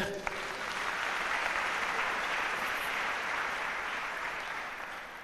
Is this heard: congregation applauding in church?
yes